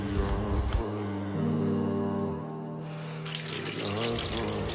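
A household tap runs steadily while someone washes, a continuous splashing stream under a sustained tonal background, with brief shifts in the flow near the middle.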